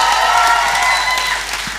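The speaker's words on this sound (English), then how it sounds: "Another round of applause for Paul Smith, host and compere this evening." Comedy club audience applauding steadily for a host and compere at a comedian of the year competition, a dense wash of clapping that holds loud and slowly eases toward the end.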